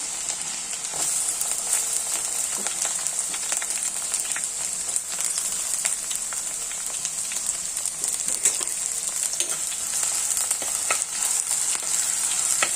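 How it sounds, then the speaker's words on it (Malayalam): Ginger, garlic, shallots and curry leaves frying steadily in hot oil for a fish curry, with a continuous close crackling sizzle and scattered pops, and no voices. "ഇഞ്ചി വെളുത്തുള്ളി മൂത്ത് കഴിയുമ്പോഴത്തേക്ക് നമുക്ക് ചെറിയ ഉള്ളി ഇടണം"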